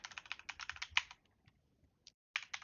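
Rapid keystrokes on a computer keyboard while an email address is entered, a quick run of close crisp clicks that slows into a pause, then a few final taps.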